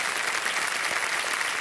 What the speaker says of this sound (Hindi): तालियां बज जाएं सोनू भारती जी की।